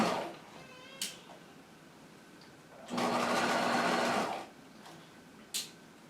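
Sewing machine stitching and back-tacking a set-in jacket sleeve: one steady mechanical whirring run of about a second and a half, framed by quieter handling noises and a couple of sharp clicks, with no talking.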